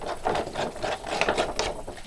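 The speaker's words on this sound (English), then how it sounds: "I'm simply going to tear it." Paper being torn in a few rough, uneven rips, close by, with no talking.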